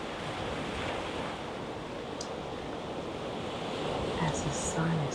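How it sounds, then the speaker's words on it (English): Ocean surf at sunset washes in a continuous broadband rush with wind noise on the microphone, swelling slightly near the end, with faint sounds in the background. "I would just like for you to listen to the waves"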